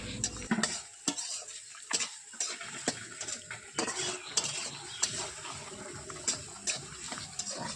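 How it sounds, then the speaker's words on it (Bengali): Fish frying in a pan, with sizzling under repeated sharp clinks and scrapes of a utensil stirring against the cookware, close and fairly busy throughout. "এখানে মাছ ভাজা প্রায় হয়ে গেছে আর কিছুটা ভাজা আছে"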